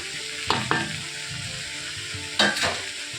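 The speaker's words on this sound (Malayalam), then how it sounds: "എന്നിട്ട് നന്നായിട്ട് ഇളക്കി കൊടുക്കാം" Mixed vegetable sabzi with green chilli fries in a pan with a steady close sizzle. Two distinct stirring scrapes cut through it, and no voices are heard.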